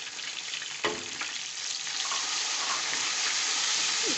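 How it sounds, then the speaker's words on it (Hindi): Tomatoes and spices frying in a pan for matar pulao give a steady, fairly loud broadband sizzle, with a brief clack near the start and light stirring scrapes, and no talking. "इसको अच्छी तरह से भूनूंगी"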